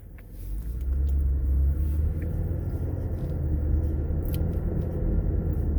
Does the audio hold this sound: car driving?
yes